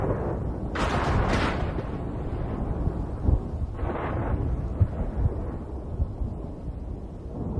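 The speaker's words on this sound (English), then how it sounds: "storms spread over this land like wildfire" A monsoon thunderstorm over the Cambodian lowlands, with steady heavy rain and rumbling under a couple of sharper cracking bursts, continuous and fairly loud throughout.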